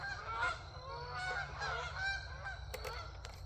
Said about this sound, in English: That's some geese flying by overhead.